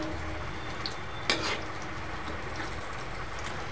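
Rava-coated raw banana slices fry on low gas, giving a steady, soft oil sizzle with a faint clink near the middle.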